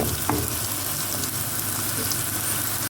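Steady, dense sizzling of onions frying in a pan for a chicken liver dish, a continuous crackling hiss that holds evenly throughout with no voices.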